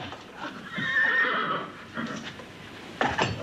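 A horse gives a loud, close neigh that rises and falls, followed by shorter snorting whinnies and a few hoof clops, with no talking.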